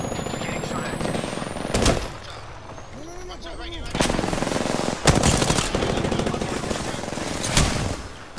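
Bursts of automatic gunfire in a competitive ranked online shooter, several loud, sharp volleys separated by short gaps, mixed with game effects and players talking.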